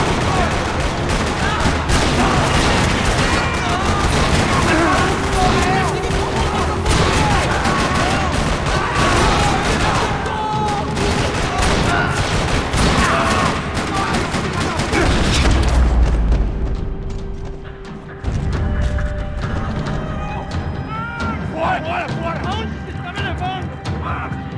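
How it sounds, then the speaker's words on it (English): Gunfire in a parking lot in the video game Max Payne 3, loud dense bursts of rapid shots and booms layered with a score and a voice speaking, thinning out toward the end into scattered shots and ambience. "Another parking lot rattling with gunfire."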